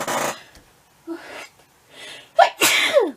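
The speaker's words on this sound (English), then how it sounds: "I feel like I'm going to sneeze." A single sharp sneeze bursts out after a few breathy inhales, close and loud, with no speech around it.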